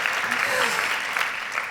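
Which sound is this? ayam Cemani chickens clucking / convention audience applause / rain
convention audience applause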